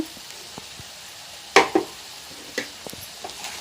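Crab gravy with freshly ground pepper, coriander and cumin powder is stirred in a pan, a low sizzle under several sharp scrapes and knocks of a spoon against the metal, close and without talk.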